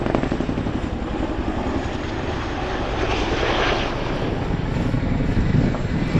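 An RAF 27 Squadron Chinook twin-rotor helicopter flies at the East Fortune Airshow, its loud, steady rotor and engine roar filling the air continuously, with some wind buffeting on the microphone.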